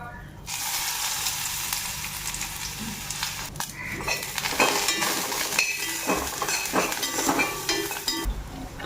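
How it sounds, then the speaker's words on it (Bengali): Eggplant pieces fry in hot oil in a pan, a steady loud crackling sizzle with occasional stirring clinks and scrapes throughout. "বেগুনগুলি দিয়া হালকা একটু ফ্রাই করে নিই"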